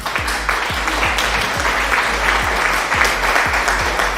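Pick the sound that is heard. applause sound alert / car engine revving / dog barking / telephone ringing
applause sound alert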